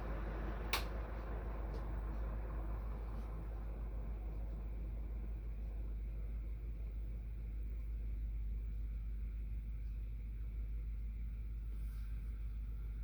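An Eagle Fan Corp 2811 bird fan hums steadily with strong airflow, a constant low drone with faint, irregular rattling from the mechanism or bearing, close and even throughout.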